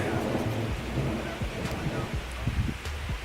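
Heavy rain falls outdoors in the Adirondacks as a steady, dense broadband wash with a low rumble underneath, close and continuous for the whole stretch.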